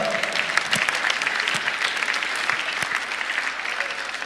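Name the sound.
audience applause after a speaker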